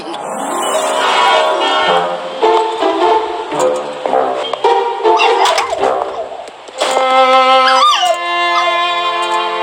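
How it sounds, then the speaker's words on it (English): A helpless dog whimpers, yips and howls in long, tonal, quavering cries, close and loud, rising in pitch near the end with short breaks between calls and no talk. "I just couldn't leave that poor helpless dog."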